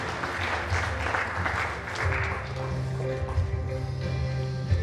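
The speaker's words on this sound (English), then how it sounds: "please clap and appreciate the permanent secretary" An audience at a memorial lecture claps for a permanent secretary. The clapping is moderate and sustained, with a faint steady tone and hum running underneath.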